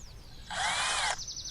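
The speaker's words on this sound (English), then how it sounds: "find the center and then drill" A power drill bores into trim on an 8-foot-tall wooden privacy fence, giving one short, close whining burst of under a second.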